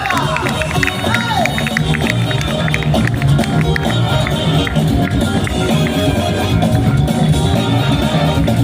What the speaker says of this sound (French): Vous pouvez les applaudir plus fort quand même, hein?